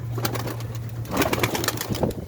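A pigeon coos close by over a dense, constant outdoor background hiss, the soft calls continuing without pause through the short stretch.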